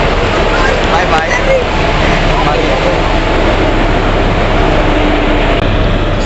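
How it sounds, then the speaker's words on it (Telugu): Broadband rumble of the Karimnagar to Tirupati train pulling out of Karimnagar railway station, a steady close roar running without a break throughout. "so Karimnagar to Tirupati train leaving Karimnagar railway station at right time"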